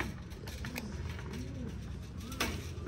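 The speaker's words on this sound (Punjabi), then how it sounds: "ਚਲ ਗਿਆ ਕਬੂਤਰ ਜਿਹੜਾ ਨਵਾਂ ਆਇਆ ਸੀ" Pigeons coo in soft, low, rolling phrases over a steady background hum, the repeated calls fairly faint and somewhat distant, without any speech.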